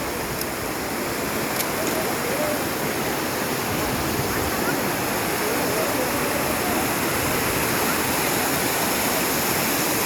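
Water gushing from many springs high in the mountains, a loud, steady roaring rush like a waterfall that fills the whole stretch without a break, with no voices over it.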